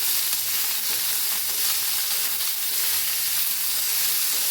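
Coriander roasts in a pan for amla chutney, giving a dense, steady sizzle and hiss that runs continuously, close and fairly loud with no talking.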